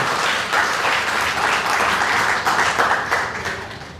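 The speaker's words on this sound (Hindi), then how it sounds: "एक बार जोरदार तालियों से भाई साहब का धन्यवाद करें" Loud, sustained applause from a large audience at a political speech event, dense clapping filling the whole stretch with slight swells and no talk over it.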